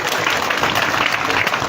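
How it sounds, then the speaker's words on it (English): An audience at an awards event in Uganda claps loudly for an awardee coming up to the stage, a dense, close burst of hand clapping that stays strong for its short length. "Please give her a big hand clap as she comes."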